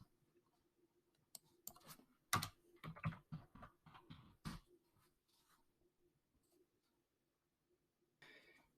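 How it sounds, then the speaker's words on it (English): Typing on a computer keyboard: a burst of fast, uneven key clicks grouped in the middle, close and clear, followed by quiet, then a few more taps at the end. "Just going to type in fitness."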